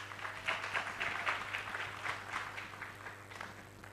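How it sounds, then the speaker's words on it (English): An audience at an education summit panel gives a faint, steady round of clapping as panelists are welcomed, heard alone without talk. "please let's give them a clap as they come"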